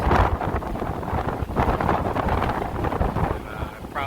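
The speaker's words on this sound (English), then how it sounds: "Just look how windy it is." Strong gusts buffet the microphone on a windy rooftop at a house build in the Philippines, a loud, rough roar that surges and eases without break.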